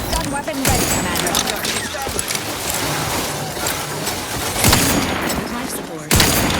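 Sustained in-game gunfire in The Outer Worlds 2, dense rapid bursts of shots and booms running nearly throughout, loud and close, with game voices speaking over the battle.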